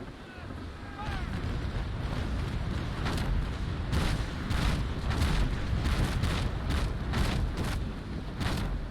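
Cannon shots from a sailing warship in the naval combat game Naval Action strike and glance off an enemy ship's hull, a series of booming impacts at a steady rhythm over a constant rush of wind and sea.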